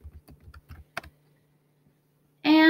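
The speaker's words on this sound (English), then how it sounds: "You can go ahead and type your name in for how you're going to join your meeting" A name typed on a Chromebook keyboard, a short burst of soft close key taps followed by quiet, then a sudden loud tone at the end.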